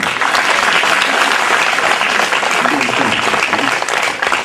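Loud, sustained applause fills a hall during a Bhagavatam religious discourse, the whole audience clapping densely and evenly from start to finish.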